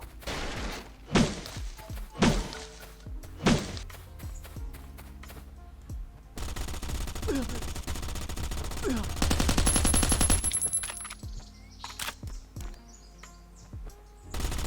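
Gunfire crackles in the survival shooter Last Island of Survival: a few loud separated shots, then a long dense automatic burst, followed by scattered quieter pops, with faint chirping ambience between.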